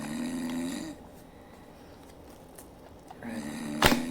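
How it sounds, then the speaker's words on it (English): A recording of snoring plays back at low volume: two drawn-out droning snores separated by a quiet pause of faint room noise, with a brief sharp knock near the end. "So I'm going to play the snoring again."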